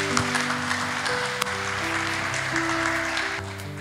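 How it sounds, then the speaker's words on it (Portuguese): A church congregation applauds during a Sunday service, a steady wash of clapping over sustained keyboard music, continuous and fairly loud throughout. "Aplauda o nome do Senhor."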